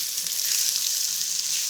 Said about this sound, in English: I'm going to pop in my onions, which I've chopped up really finely. I'm going to give that a stir just to coat with the oil.